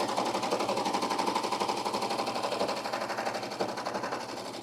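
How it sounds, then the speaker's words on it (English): A Baby Lock serger runs continuously to sew ruffles into fabric, giving a steady, close, rapid mechanical whirr with a fine stitching rhythm that holds at an even pace throughout with no talk. "you can make tons and tons and tons of continuous ruffles with the serger"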